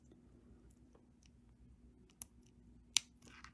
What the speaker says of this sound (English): we're going to come in with our cutter tool and trim off the tail.